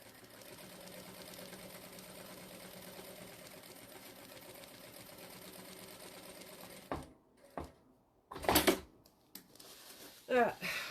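A sewing machine running a decorative stitch on a tote bag hums in a long continuous whir, then stops, followed by brief handling noises and bursts of nearby talk.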